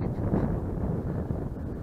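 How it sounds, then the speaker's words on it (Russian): Steady, low wind rumbling across an outdoor microphone on the bank of the Western Dvina river during feeder fishing, constant throughout with no clear speech. "ветер поднялся"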